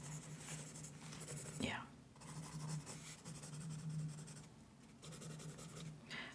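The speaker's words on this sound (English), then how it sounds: "I think what I'm gonna do is start with a pencil. I'm gonna sketch you out first." A pencil sketches softly on paper in a quiet, close setting, steady light scratching strokes with brief pauses, while a voice whispers over it.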